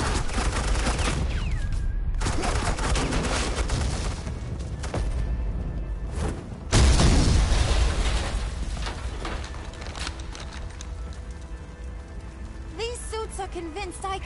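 Sustained volleys of suppressing gunfire in the Batman: The Enemy Within game, a dense loud fusillade with booming bursts and a sharp surge midway, voices talking faintly underneath.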